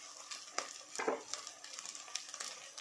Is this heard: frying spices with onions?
yes